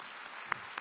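An audience at a live concert of devotional songs with piano accompaniment applauds faintly, a soft, distant patter of clapping with a couple of sharper individual claps standing out.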